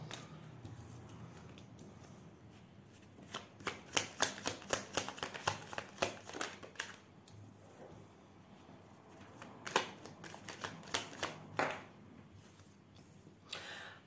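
Tarot cards are shuffled by hand for a reading: two bursts of rapid, crisp riffling and flicking close up, separated by quieter handling, with no talk.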